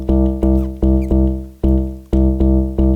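Elektron Digitone II synth bass with modulation adding overtones, a loud repeated deep note retriggered in an uneven rhythm, each hit decaying with a bright clicky edge, alone.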